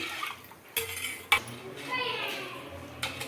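A spoon stirs pani puri water in a bowl: a few sharp metallic clinks and scrapes stand out over soft swishing liquid, with a faint voice in the background.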